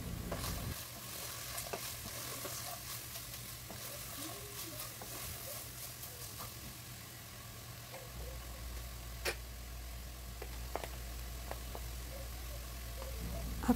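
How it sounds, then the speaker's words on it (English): Chicken and capsicum fry in a pan while being stirred, with a soft continuous sizzle, scattered clicks and scrapes of the utensil, and a low hum underneath. "Keep stirring while frying the chicken. After 8 minutes, put the capsicum in it and fry along with chicken."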